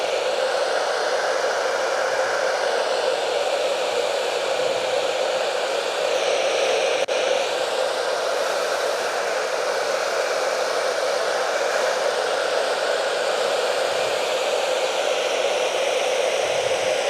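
A hair dryer blows steadily on curly hair, a loud, close and continuous whooshing roar that holds nearly unchanged for the whole stretch, with no talking over it.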